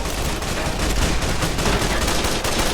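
Dense, loud gunfire from the video game Fallout New Vegas during the battle for Hoover Dam, a continuous barrage of overlapping rapid shots and bursts with no pauses.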